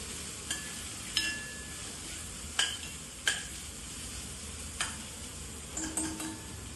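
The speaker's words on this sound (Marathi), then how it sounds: "एक 5 मिनिटांमध्ये कांदा आणि हिरवी मिरची चांगली भाजून होते" Onion and green chilli fry gently in a pan, a soft, faint sizzle broken by a few sharp utensil taps and clicks.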